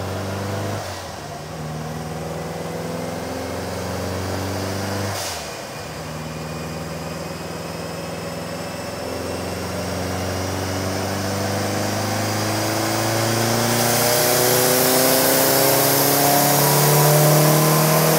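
Drive-by-wire resto-mod Mini engine under load on a dyno, droning loudly and climbing steadily in pitch through a long power run after a couple of brief dips.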